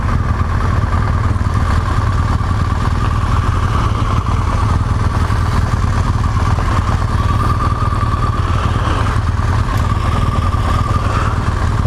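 BMW 1200 GSA motorcycle on a ride, its engine thrumming steadily and continuously with a low clattering drone throughout, no talking.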